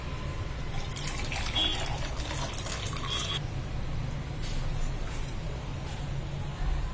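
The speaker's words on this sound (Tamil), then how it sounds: "இப்போ நான் இதை வடிகட்டுறேன்." Hot ginger drink strained into a glass, a steady liquid trickle and pour running throughout over low background rumble, with brief brighter splashy bursts early on.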